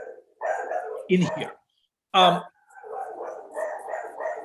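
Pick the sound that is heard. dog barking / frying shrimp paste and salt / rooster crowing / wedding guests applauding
dog barking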